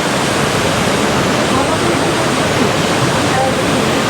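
River water rushes steadily below a sheer rocky cliff trail in the Uttarakhand hills, a loud, unbroken broadband roar filling the whole clip with no pauses.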